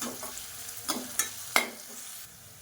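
Chopped onion with salt sautéing in a pan for a pepper chicken gravy, a soft steady sizzle broken by a few sharp stirring scrapes of a spoon against the pan.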